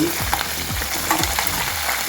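Green chillies, cumin, coriander seeds and peanuts frying in a pan, a close, continuous sizzle with rhythmic scraping stirs.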